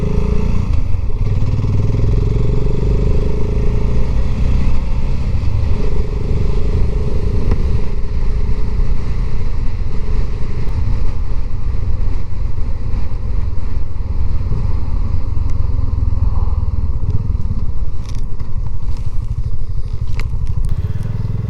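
Motorcycle riding along a back lane toward a racing circuit, with a steady, continuous engine drone and heavy wind rush at the microphone throughout, no talk.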